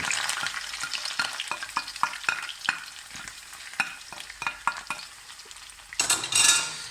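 Vegetables hitting hot oil in a wok for a village-style curry, giving a steady close sizzle with scraping stir strokes, a louder burst of crackling near the end.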